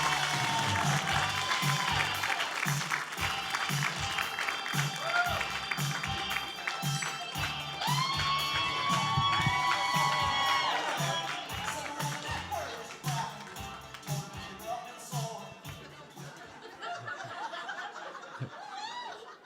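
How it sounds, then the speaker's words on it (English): Comedy club audience in Brea applauding, laughing and cheering as a comedian takes the stage at an improv show; dense, steady clapping with scattered whoops and chuckles that thins out toward the end. "Rowdy crowd, I like it, man."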